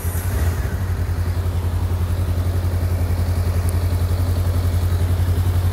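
Honda Rebel 500 motorcycle idling in neutral, its exhaust giving a steady, close, low thumping rumble with an even pulse throughout and no talk.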